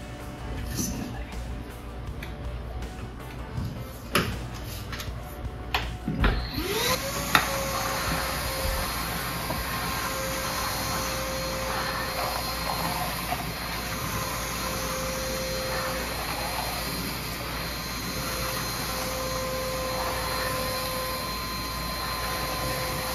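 A Milwaukee M18 Fuel 6-gallon battery wet/dry shop vacuum starts after some handling clatter and then roars steadily as it sucks up sawdust from a workshop floor, loud and close for the rest of the stretch.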